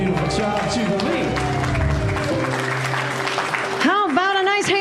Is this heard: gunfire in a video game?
no